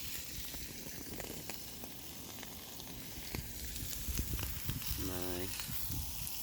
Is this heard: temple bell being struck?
no